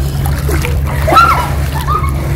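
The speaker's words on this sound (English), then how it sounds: "A nice splash ng tubig." Splashing water in a resort swimming pool in Quezon City, a steady sloshing wash of spray over a constant low hum, with children's voices calling out faintly nearby.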